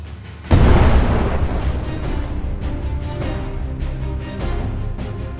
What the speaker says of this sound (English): The torpedo struck between hold number 4 and the stokehold, causing immediate flooding and a list to port.